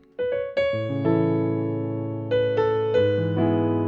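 Sustained piano chords are struck one after another, the harmony sliding by small steps, each chord ringing out clearly with no voices present.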